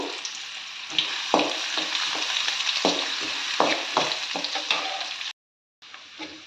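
Finely chopped onion frying in oil with cardamom, clove and a piece of cinnamon, a steady loud sizzle broken by repeated stirring scrapes, then a brief silence before the sizzle resumes.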